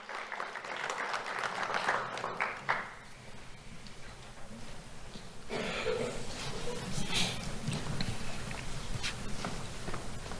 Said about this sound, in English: Let's have a round of applause for Gavin Gails.